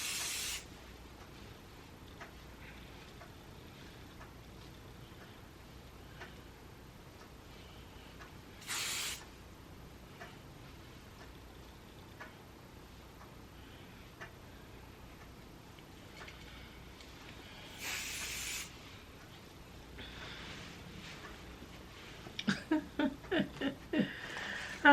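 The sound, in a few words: hairspray being sprayed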